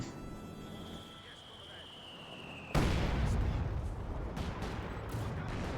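Heavy mortar shelling in Company of Heroes 2 during a Wehrmacht versus Soviet match: a high whistling tone descends for a few seconds before a loud sudden blast, followed by sustained rumbling battle noise with further thuds.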